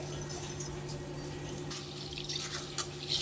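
Rice being washed in water, soft splashing and dripping heard close and faint over a steady low hum, with no voices.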